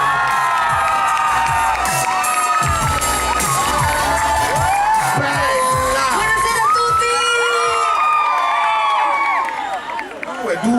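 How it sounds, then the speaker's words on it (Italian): Concert audience cheering and whooping for the singer at the Pizza Village in Naples, a loud, dense wave of shouts and cheers with high-pitched voices, fading near the end. "E adesso l'applauso invece è per la nostra prima grande ospite"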